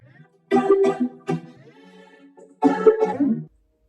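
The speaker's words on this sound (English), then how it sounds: "Why do I end up coughing during these videos?" Two short, harsh coughs close by, separated by a brief pause, with near silence around them.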